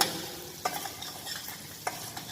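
Bean soup being stirred with a ladle in a cooking pot, giving soft scraping strokes with a couple of sharper knocks over a faint sizzle, close and quiet with no talk.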